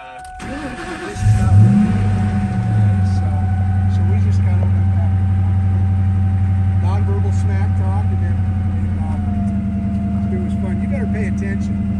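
A 2003 Oxford White Ford Mustang Mach 1 starts and idles steadily, its loud, close engine holding a deep even drone with a faint whine suspected from a worn input shaft bearing, while people talk over it.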